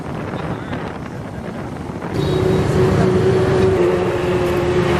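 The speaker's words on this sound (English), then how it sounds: "About 2 hours into our motorcycle journey." Steady engine drone and road rumble from a motorcycle moving through Hanoi traffic, growing louder partway through, with wind buffeting the microphone throughout.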